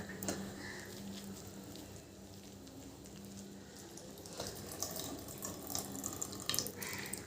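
Water squeezed by hand out of grated kohlrabi runs and splashes steadily into a container, a continuous close trickle with a few louder splashes toward the end.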